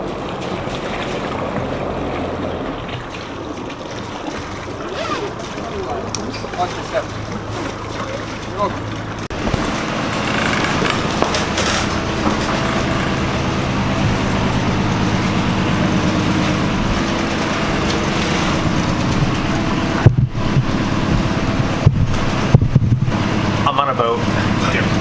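A boat engine drones steadily on a river, mixed with rushing wind and water noise, with voices faintly audible underneath.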